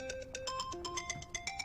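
A phone plays a bright electronic ringtone melody, a quick run of clear, tuneful beeping notes repeating at close range without any talk.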